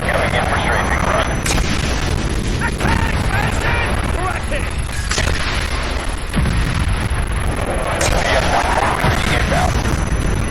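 An airstrike strafing run in the video game Call of Duty: Black Ops brings continuous heavy explosions, crashes and gunfire at high intensity, with radio chatter mixed into the dense battle noise.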